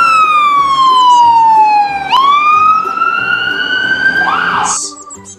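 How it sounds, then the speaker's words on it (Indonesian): A toy ambulance siren wails loudly and close, sweeping down in pitch, jumping back up and rising again in a steady electronic tone, then cutting off with a brief chirp at the end. "ada satu mobil emergency rescue ambulans"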